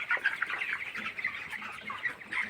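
Broiler chickens in a poultry shed cluck and chirp in a busy, overlapping chorus of short calls, close and continuous.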